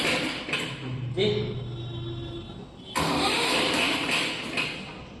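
A Massey Ferguson 254 DI tractor engine cranks and tries to start with a knocking fault, producing bursts of mechanical clatter and a rough droning engine sound, close by, with someone talking.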